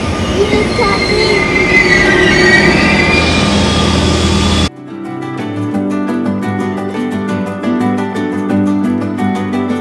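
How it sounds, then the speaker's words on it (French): A loud train rumbles and roars nearby in Île-de-France, then the sound abruptly shifts to a steady rhythmic clatter of wheels with tonal hum inside a rail car. "Ah, c'est ça le train?"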